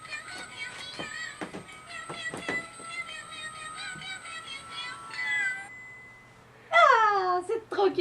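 A Christmas card with a little cat on it plays a recorded cat meow, a short electronic jingle of tones followed by a clear, bright meowing near the end, with a voice speaking quietly beneath.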